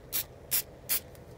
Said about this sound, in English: He is using the spray glue.